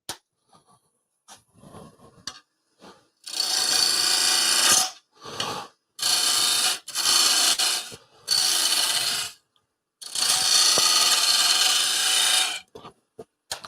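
U-shaped bowl gouge cutting wood on a lathe, loud rough scraping bursts of several seconds each, separated by short pauses and lighter touches, close by with no talk.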